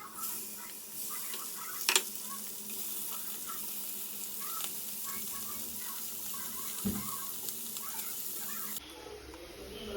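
Masala-coated chemballi fish fries in hot oil, a steady close sizzling hiss running throughout, broken by a couple of sharp utensil clinks and a soft thud.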